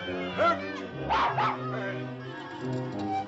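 A small terrier-type dog barks and yips in a few quick bursts indoors, close by, mixed with excited raised voices of people talking over it.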